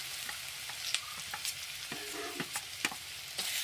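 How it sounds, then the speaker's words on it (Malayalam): Onion and black pepper fry in a pan with a steady broadband sizzle, broken by repeated sharp scrapes and clinks of a spoon stirring against the pan, with no talking. "സവാള ഇട്ട് കൊടുക്കാം കുരുമുളകും കൂടെ അതിൻ്റെ കൂടെ ഇട്ട് കൊടുക്കാം"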